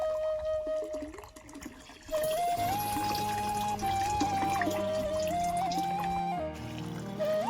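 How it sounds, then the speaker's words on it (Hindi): Medicine liquid pours into a spray machine in a village, a continuous splashing trickle up close with a steady tone running through it and no talk. "तो फिर मैं चल पड़ा वापस अपनी मशीन के पास उसमें दवाई डालने।"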